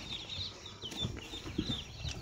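Duck chicks at a farm in Assam give faint, high repeated peeping over soft low rustling and occasional bumps, with no voices.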